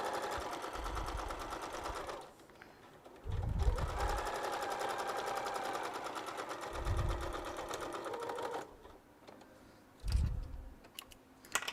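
A sewing machine stitches a fabric seam in quilting work, running in steady rapid bursts with short pauses between them, close and fairly loud with no talking.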